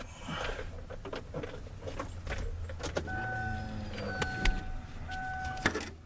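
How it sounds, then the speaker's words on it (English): A 2003 Kia Spectra's electric fuel pump primes, giving a steady thin whine with faint clicks and clunks from the car as pressure builds, quiet and close, with no talking. "I heard the pump."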